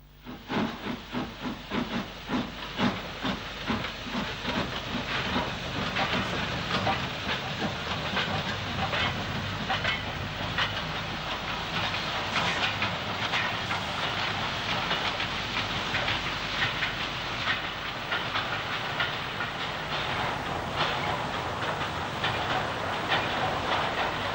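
A London North Western 0-8-0 steam locomotive runs steadily, with continuous hissing steam, rhythmic chuffing and rail clatter heard at a moderate distance throughout.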